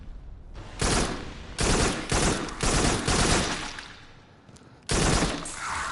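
Rapid gunfire in the virtual reality shooter game Farpoint comes in several loud sustained bursts of automatic fire separated by short pauses, with one final burst after a brief lull.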